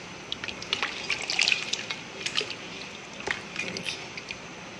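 Water heating in a pot for mutton biryani bubbles and trickles softly as it comes to a boil, with faint irregular pops and gurgles at low level.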